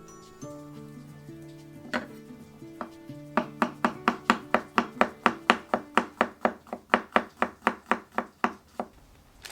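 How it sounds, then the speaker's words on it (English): A knife slices through garlic: a few scattered cuts give way to a steady, quickening run of about twenty crisp, close chops, each one distinct. "Just take out the piece of garlic and slice it."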